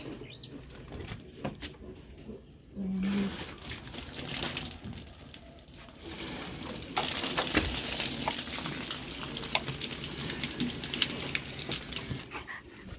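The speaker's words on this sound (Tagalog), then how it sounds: "Bubuhusan muna ng tubig." A steady rush of water being poured, growing louder partway through and continuing without pause, with faint knocks and background noise.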